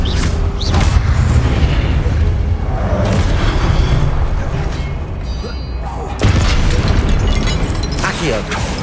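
Repeated booming Confringo spell blasts erupt in Hogwarts Legacy, loud and close, with continuous game combat noise and bursts of impact between them.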